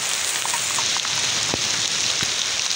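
Heavy rain falls after a long drought, a dense, steady hiss of drops on surfaces, loud and close, with a couple of sharper nearby splashes and no speech.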